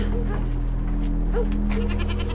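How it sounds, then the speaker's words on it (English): A goat bleats a few times over a steady mechanical hum, nearby and moderately loud. "there's goats down here"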